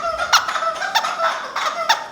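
Rubber chickens squawk in a quick run of about five honking squeaks, loud and close, each a short nasal burst with brief gaps between.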